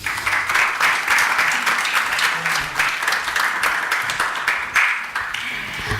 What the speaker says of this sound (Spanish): Les pido que la reciban nuevamente con fuertes aplausos.